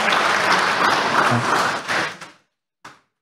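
A church congregation at a Sunday worship service applauds in a full, steady round that tapers off and stops, followed by a single late clap after a brief silence.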